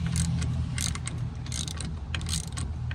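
Steering wheel puller being tightened on a 1972 Plymouth steering shaft, giving rapid repeated ratchet clicks and metallic mechanical bursts over a steady low hum, close and fairly clear, with no talking.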